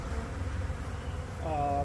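A swarm of honeybees buzzing steadily in a front yard as clusters are shaken into a box, a low continuous hum close by, with a brief higher tone rising near the end.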